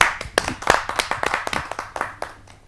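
A small audience at a Hindi poetry gathering, a kavi sammelan, claps to welcome a poet. There are distinct, fairly sparse claps with an uneven rhythm, heard close by and without speech.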